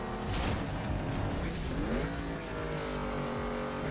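A racing car engine in Need for Speed Carbon roars steadily, its pitch rising as it revs up, with a brief tire squeal amid continuous game-like engine noise.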